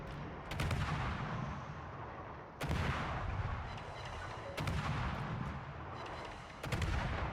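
Warship guns on the destroyer Halland fire in a naval combat video game: four loud, booming salvos land at fairly even intervals over a constant rumbling battle background, with no talking.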